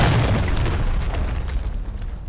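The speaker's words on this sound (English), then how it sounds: "Friendly cruise missile deployed." A cruise missile explosion in a Call of Duty team deathmatch, a loud, deep boom that rolls and slowly fades over a couple of seconds without speech.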